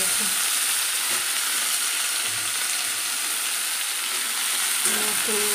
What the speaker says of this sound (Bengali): উচ্ছে ভেজে একবারে মিক্সড করে নেব